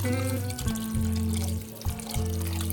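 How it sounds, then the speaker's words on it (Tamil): Water pours steadily into a pressure cooker with beetroot for sambar for a few seconds, briefly pausing and resuming, over a low electrical hum. "இதுக்கு தேவையான அளவு தண்ணியும் நம்ம சேர்த்துருவோம்"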